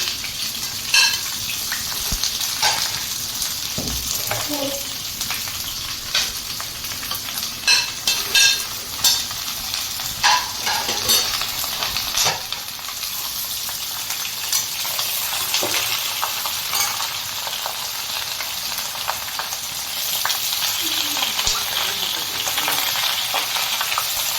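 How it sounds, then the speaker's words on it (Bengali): Fried vegetables, including bitter gourd, tossed and stirred in a hot kadai for Bengali shukto, a steady loud sizzle with scraping spatula strokes and occasional metal clinks against the pan. "এবার আমি ভেজে রাখা সব সবজিগুলো একে একে কড়ার মধ্যে দিয়ে দিলাম।"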